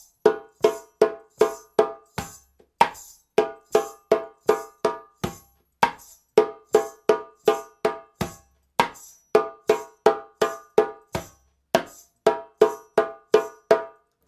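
Djembe tone strokes in the Kalayla rhythm: crisp, evenly spaced hand hits repeating in short grouped patterns with brief pauses, close and clear with no talking.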